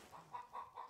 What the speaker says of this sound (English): Yeah, we saw some chickens.